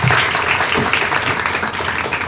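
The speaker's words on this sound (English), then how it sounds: "Please give a huge round of applause for him." A crowd at a college Constitution Day event applauds as someone comes on stage, a loud, dense burst of many hands clapping that holds steady for the whole moment.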